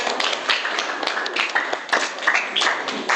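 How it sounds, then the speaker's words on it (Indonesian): Students in a classroom clap together in a quick, uneven patter of close, sharp claps that continues steadily, with a few voices faintly mixed in. "tepuk tangan untuk kita semua."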